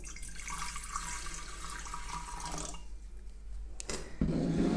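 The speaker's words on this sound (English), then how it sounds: "So I'm just going to pop a little bit of water into the bottom of my fish bowl." Water from a tap runs steadily into the bottom of a glass fish bowl, a continuous splashing rush that stops briefly and then resumes louder and closer near the end, with no talking.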